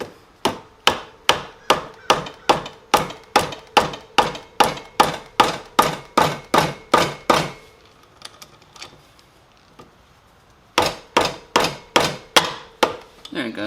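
Repeated sharp metal strikes from a small breaker bar hammering a seized rotor puller on a Honda XL185s motorcycle, a fast steady run of loud close blows, a pause, then another burst of hits.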